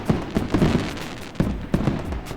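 Fireworks effect from a hype command in a Unity-made game, a string of muffled pops and booms, several bursts in uneven succession over a steady crackling bed, moderately loud with no talking.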